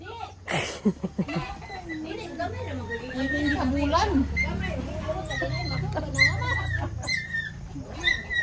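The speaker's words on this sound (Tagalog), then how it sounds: "Uy, na pa yung manok!" Chickens cluck and a rooster-like squawk rises nearby, mixed with people chatting over a steady low background hum.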